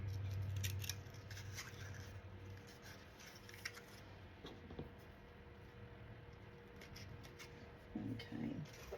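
Scissors snip through a tall, skinny paper journal with a Paris rose design in a series of quiet, crisp cuts spread across the stretch, close by and mostly alone, with brief faint rustling.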